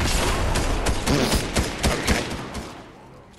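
Snowball launcher firing repeatedly in Fortnite, a rapid string of punchy bursts and thumps that fades out toward the end, with a short spoken word in the middle.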